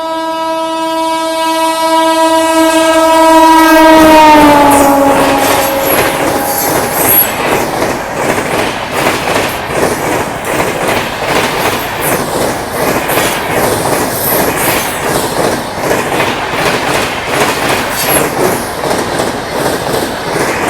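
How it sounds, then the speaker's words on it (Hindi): Howrah Rajdhani express overtaking on an adjacent track, heard from another train: a loud horn blast that slides down in pitch as it passes, then a sustained roar of wheels with rhythmic clickety-clack, close and continuous. "ये है हावड़ा राजधानी जो अभी ओवरटेक करके जा रही है हमें"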